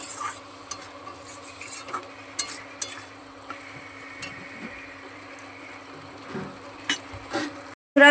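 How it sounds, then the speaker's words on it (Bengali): Spice paste masala being sautéed and stirred in a pan for a meat gravy, with a low steady sizzle and occasional scraping stirs, fairly quiet, ending in a sharp clatter. "এবার এই মশলার যে পেস্টের জলটা দিয়ে দেবো, দিয়ে এটাকে ভালো করে আর একটু কষিয়ে নেব"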